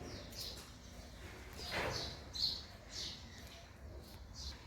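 Sparrows chirp in the morning near a Gujarati family home: a handful of short, faint, high chirps scattered over a steady low outdoor hum, with no talking.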